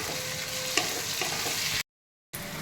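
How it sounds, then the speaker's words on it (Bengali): Sliced onions frying with a pinch of salt in a pan, a steady close sizzle with a soft stirring scrape, briefly cut to silence before resuming. "আমার পেঁয়াজটা ভাজা হয়ে গেছে"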